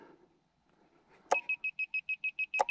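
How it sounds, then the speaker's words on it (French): Lost-model buzzer on a 3D-printed FPV twin-motor tractor plane, a loud series of about ten rapid, evenly spaced high-pitched beeps following a faint rustle and two sharp clicks, close and clear with no talking. "On a le buzzer au cas où on le perde"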